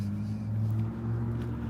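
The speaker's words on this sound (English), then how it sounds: "the engine sound is going off again right now." A car engine idling outside near an apartment building, a steady low hum with tonal drone holding at constant level for under two seconds, with no clear talking.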